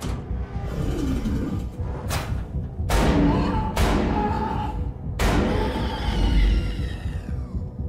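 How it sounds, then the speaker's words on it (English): Gunshots from a horror short film: four or five heavy booming blasts at irregular intervals, each with a sharp attack and a rumbling decay, over a dense, dark background. "He's already shooting at something."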